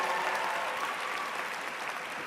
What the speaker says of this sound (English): let's give a special round of applause for all the families here today